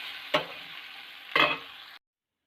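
Masala powder being mixed into an eggplant rice mixture in a pan: a soft continuous sizzle with two distinct scraping stirs about a second apart, close by, then cutting off abruptly.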